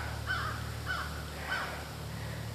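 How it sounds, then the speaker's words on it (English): Birds call three times in a steady series from a pond some distance away, harsh crow-like caws over a constant low background hum, with no talking. "Here the ducks or the birds or whatever's going on down there at the pond."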